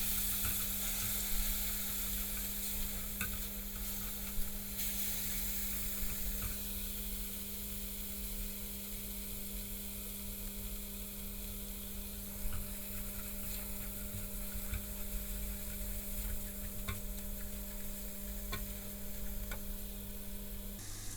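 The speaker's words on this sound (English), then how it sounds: "Add a little heated base gravy and fry for a minute or two." Spices and heated base gravy fry steadily in a pan, a continuous close sizzle under a faint electrical hum, with a few small ticks and stirring taps along the way.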